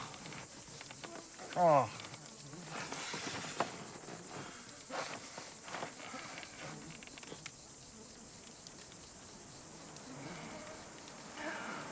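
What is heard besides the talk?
mosquitoes buzzing, echoing in a canoe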